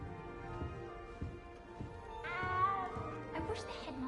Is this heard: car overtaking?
no